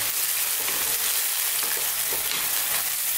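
Masala sizzles and fries in a pan over lowered heat for a lamb kadai curry, a steady close crackling hiss with faint stirring, no voices.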